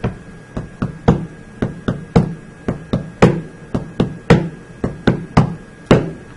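Steady taps on a hard surface in a repeating long-short-short pattern, the rhythm of dactylic hexameter tapped out clearly with no talking.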